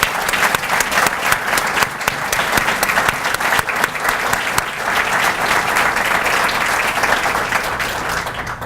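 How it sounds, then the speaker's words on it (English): A chamber of commerce awards luncheon audience bursts into sustained applause, dense and steady clapping from a crowded room that holds for about nine seconds before easing slightly at the end. "give them a round of applause"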